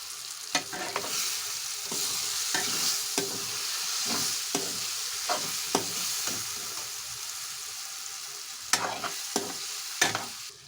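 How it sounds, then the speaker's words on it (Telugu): Ridge gourd and dried fish curry sizzles steadily in a frying pan while a spoon scrapes and stirs in chili powder, giving a series of sharp clacks roughly every second, close and fairly loud. "కారం వేసి కలిపేసే కదా"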